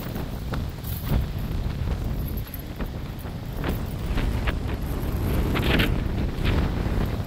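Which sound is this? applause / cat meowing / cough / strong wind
strong wind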